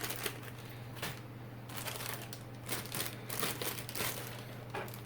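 A plastic parts bag from an AMT 1966 Ford Mustang model kit crinkles and rustles in repeated close, quiet bursts while being handled and opened, with no voices.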